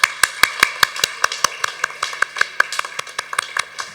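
A small audience claps for a debate award winner at a gavel club evening: sharp, fairly regular hand claps, only a few at a time, about three or four per second, close and distinct, with no talk.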